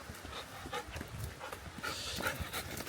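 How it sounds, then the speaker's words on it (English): A wet dog panting close by outdoors at a lake on a sunny day, quick soft breaths under faint background noise and light movement. "Oh, there's a dog."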